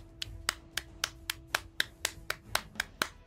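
Evenly spaced single claps ring out about four times a second for a few seconds. The sound is sparse and crisp, more like one person's steady applause than a crowd, and fairly faint over low background noise.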